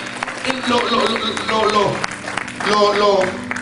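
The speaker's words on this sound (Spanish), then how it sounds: "Denle ese aplauso fuerte a Jesús" A church congregation applauds during a sermon, broad clapping running under a loud, sustained voice that sounds close to singing, with the clapping swelling again toward the end.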